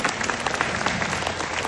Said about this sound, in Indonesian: Tepuk tangan buat Swanghor.